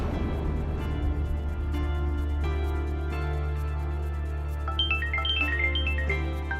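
A phone rings with a steady electronic tone, then a quick melodic jingle of bright chiming notes plays near the end.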